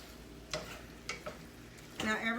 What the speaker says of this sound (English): the thing to do here is to sear it. Just a little. Okay, some oil.